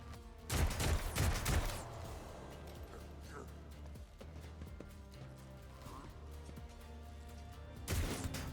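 Gunfire in a Warhammer 40K game, Sister of Battle campaign, comes in two loud bursts of rapid shots at the start and the end, with quieter game sounds between.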